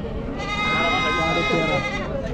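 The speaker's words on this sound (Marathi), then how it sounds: "बरेच शेळ्या आहेत तिकडे, पाहू शकाल" Goats bleat amid the crowd at a rural goat and poultry market in Shirur, Maharashtra, mixed into steady nearby talk and general market bustle.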